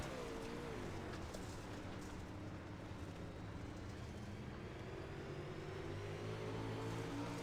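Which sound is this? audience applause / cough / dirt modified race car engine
dirt modified race car engine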